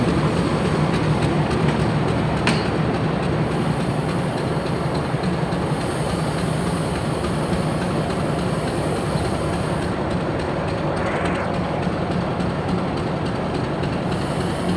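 Railway carriages roll steadily past on the track near a morning line, a continuous loud rumble of wheels and rail clatter with no pauses, carrying on for the whole stretch.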